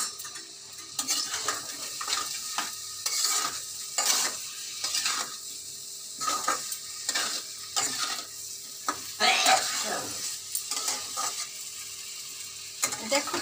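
Potato and pointed gourd pieces frying in oil-released spice masala, with steady sizzling and repeated scraping stirs of a spoon against the pan, mid-level and close, no talking.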